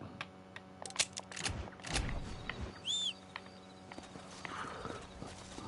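Horse hooves clip-clop in Red Dead Redemption, a few irregular steps with a brief whinny, fairly quiet over a soft game ambience.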